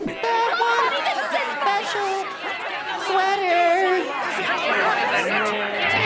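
Dense crowd chatter from a SpongeBob SquarePants episode: many overlapping voices murmur and babble continuously at close range, a steady noisy throng with no single voice standing out.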